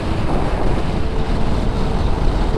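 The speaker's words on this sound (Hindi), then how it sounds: "बहुत तेज़ हवा है।" Strong wind roars and buffets the microphone continuously, a loud, steady rumble with no voices.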